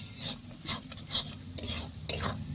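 An onion and spice masala fries in a pan while a spoon stirs it, soft scraping strokes repeating every half second or so over a gentle low sizzle, close and with no speech.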